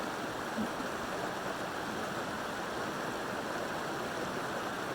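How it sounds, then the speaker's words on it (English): A creek rushing toward the Yampa River at Steamboat Springs, a steady, even hiss and splash of flowing water throughout, with no voices. "one of our magical, beautiful creeks that leads into the Yampa River in Steamboat Springs"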